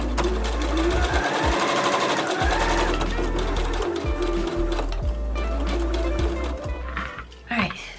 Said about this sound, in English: Sew side front to center front and press.